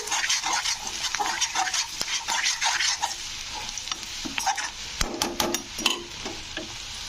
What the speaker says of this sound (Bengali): তো রসুনটা দিয়ে একটু নাড়াচাড়া করতে হবে